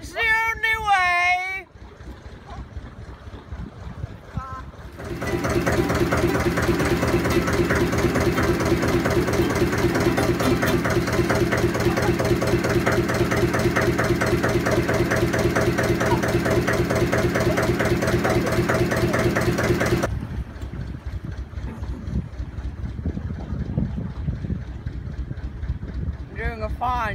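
A steady engine drone runs for about fifteen seconds, loud and constant like a boat motor idling, with quieter voices before and after.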